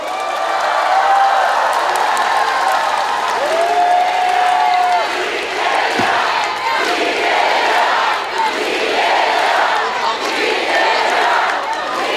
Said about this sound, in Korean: 여러분 큰 박수를 보내주십시오.